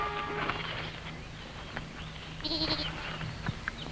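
A goat bleats faintly against a noisy outdoor background in a 1960s period drama, a short wavering cry near the middle amid steady rustling and hiss.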